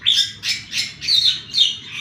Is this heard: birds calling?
yes